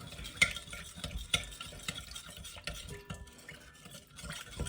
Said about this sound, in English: I'm just going to get a big spoon. I'm going to mix all this lot in.